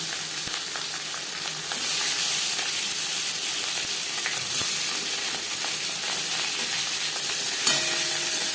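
Marinated katla fish fries in hot refined oil, giving a dense, continuous sizzle and crackle with scattered sharper pops, steady and close throughout.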